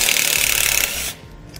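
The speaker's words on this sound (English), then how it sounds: "we're going to need to remove the 10 millimeter head bolt using a 10 millimeter socket on this bracket here" Socket wrench working loose a 10 mm head bolt on a bracket during an air helper spring install on a 2017 Ford, with a steady close mechanical ratcheting for about a second before it cuts off to near quiet.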